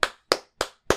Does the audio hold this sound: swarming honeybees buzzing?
no